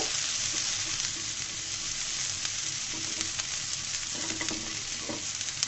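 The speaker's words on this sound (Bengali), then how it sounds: "রসুনটা একটা রসুন দিয়েছি আর পেঁয়াজ দিয়েছি পরিমাণ মতো দিয়ে এগুলাকে সুন্দর করে হালকা করে ভেজে নিব" Garlic and onion fry lightly in a pan for an eggplant mash, a steady soft sizzle with occasional scrapes of a spoon stirring, close and continuous with no talking.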